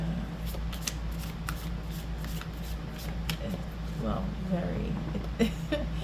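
A tarot deck is shuffled by hand, giving repeated quick riffling card flutters in short bursts, close and fairly soft, under someone talking.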